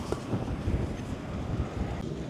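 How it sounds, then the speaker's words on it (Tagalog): A strong, cold winter wind blows outdoors in Australia, a steady, close, rumbling roar buffeting the microphone. "Napakalamig ngayon, napakahangin."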